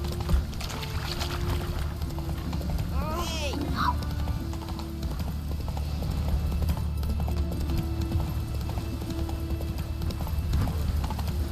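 Horse hooves clip-clopping at a steady trot in The Witcher 3 video game, with game voices speaking over the rhythmic hoofbeats and a brief whinny.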